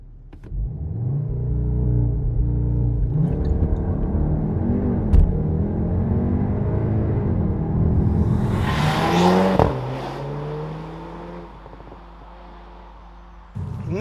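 VW Tiguan R with a 2-liter turbocharged petrol engine making 320 horsepower, heard from inside while driving: a low rumbling drone that climbs through several rising revs, a whooshing burst near the end, then a quieter idle.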